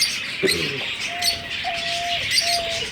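A caged pet bird, fed garlic, sings in clear chirps and a few sustained whistled notes, close by and moderately loud over a faint background hiss.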